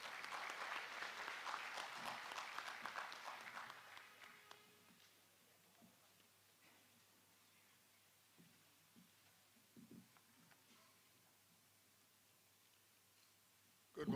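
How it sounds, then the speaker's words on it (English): An audience at an induction ceremony claps to welcome a speaker, a dense round of applause that fades after about four seconds into scattered claps and quiet room noise. "Let's welcome him with a hand clap."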